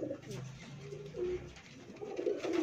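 Breeding pigeons kept in a loft coo in low, throaty rolling calls, several overlapping phrases repeating close by, with a voice talking faintly underneath.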